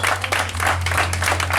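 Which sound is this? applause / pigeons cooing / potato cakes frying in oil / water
applause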